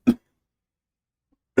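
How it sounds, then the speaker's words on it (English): Two short, sharp coughs from one person, about a second and a half apart, with silence between them in a quiet indoor podcast setting. "I'm gonna cough again, by the way."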